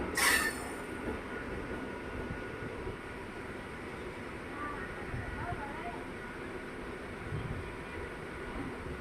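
The Bidar–Yesvantpur Express stands parked at Yesvantpur railway station with a low continuous rumble. A brief sharp burst comes at the start, and faint squeals rise now and then.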